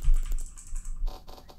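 Elden Ring themed keyboard sounds from a browser mod, a short run of distinct clicky keystrokes in quick succession, with no talking.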